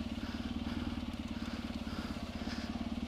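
A 2020 off-road motorcycle, an XTZ 750 or Tiger 900, pulls steadily over a rough track, its close, loud engine chugging with a continuous pulsing drone and no pauses.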